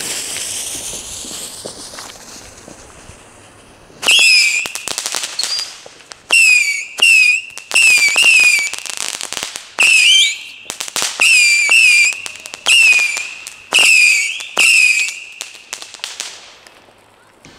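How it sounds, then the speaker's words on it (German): A small Cactus Jack whistle firework battery fires on New Year's Eve, sending out a rapid series of loud, shrill rising whistles. Each whistle ends in a sharp crack, in bursts over about thirteen seconds, after a quiet start. "weiter geht es mit dieser kleinen Pfeifbatterie hier"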